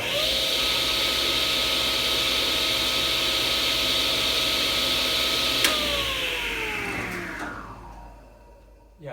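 CWI-T1002 Stallion 1.5 HP 10-inch cabinet table saw blade whirring steadily, then a sharp click as the brake engages and the whine winds down quickly to silence.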